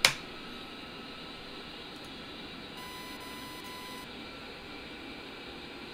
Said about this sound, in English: The beeping is from the radar warning system.